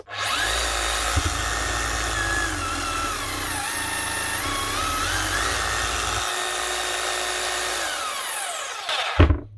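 A repaired Makita HR3210FCT hammer drill runs steadily at high speed with a loud, continuous whine and motor hum, then spins down and stops with a brief clunk at the end.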